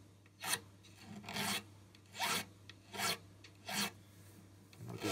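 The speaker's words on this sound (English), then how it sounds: "because I'm going to sand that anyway" Rosewood on an acoustic guitar being sanded by hand: six rhythmic raspy strokes, close and clear, with a faint steady hum in the background.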